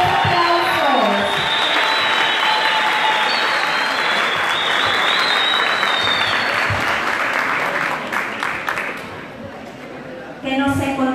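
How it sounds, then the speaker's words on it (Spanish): A crowd at a presidential speech event among Salvadorans in Milan breaks into loud, sustained applause with cheering and some voices mixed in, then thins briefly before picking up again at the end. "los aplausos."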